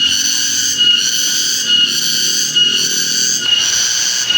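Cicadas shrill steadily on a mountain peak in Java, a loud, dense high-pitched drone that pulses in several waves and runs without pause, with no voices present.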